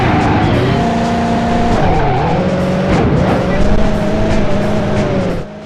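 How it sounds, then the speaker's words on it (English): Tyres screech in the Driver 2 video game, a loud sustained squeal that bends up and down in pitch as the car slides, over a constant engine drone, ending abruptly. "they kept the tyre screech from the first game."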